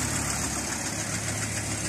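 Volkswagen T4 van engine, freshly serviced with a new radiator, new belts and an oil change, idles with a steady low, even rumble at close range, no one speaking.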